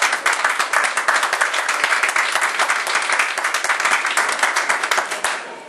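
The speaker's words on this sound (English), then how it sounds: "Let's give them a big round of applause." An audience at the Florida state capitol gives a round of applause during a Christmas tree presentation. Many hands clap briskly and steadily for about five seconds, then the clapping fades out.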